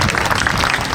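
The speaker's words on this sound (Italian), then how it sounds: "Facciamo un applauso alle nostre concorrenti" Audience applause for beauty pageant contestants at a Miss Italia regional event, a dense, steady clatter of clapping filling the whole moment without a break.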